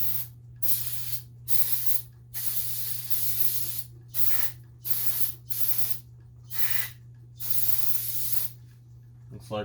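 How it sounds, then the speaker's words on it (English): Aerosol brake cleaner sprayed onto a Kawasaki FA210 engine's carburetor in a series of loud, close hissing bursts, each a second or so long and separated by short pauses, over a steady low hum. "Looks like we're gonna have to get a fresh can of brake clean soon."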